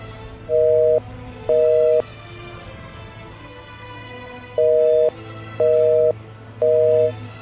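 A telephone busy signal beeps in short, evenly spaced tones over a steady low hum, loud and close, with no voices, as a call goes unanswered.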